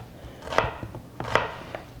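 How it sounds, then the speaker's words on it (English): Knife slicing onions into thin half moons on a cutting board, two close crisp chops with lighter taps between, quiet and alone. "we're pretty much just going to cut them in half moons"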